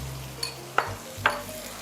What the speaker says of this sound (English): now I'm going to put in just 3 tablespoons of the Sambal tumis that I have previously made.